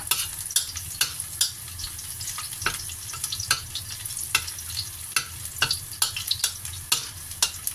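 Mama instant noodles are stir-fried in a pan, with a constant hiss of frying under brisk, regular scraping and clinking of the spatula, close up and with no talk.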